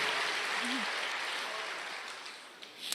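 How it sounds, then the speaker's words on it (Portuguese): A church congregation applauds in a steady, dense wash of clapping that gradually softens over a few seconds. "Dê uma salva de palmas."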